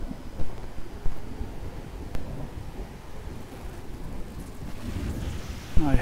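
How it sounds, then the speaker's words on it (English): Low rumbling thunder from an approaching storm rolls beneath steady outdoor wind and rain noise, with several soft swells and no clear sharp crack. "I hope you can hear that rumbling of thunder."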